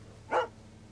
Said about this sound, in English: I'm gonna play frisbee with the dog.